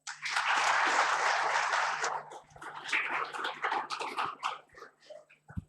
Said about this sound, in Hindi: इनके लिए एक बार फिर से जोरदार तालियां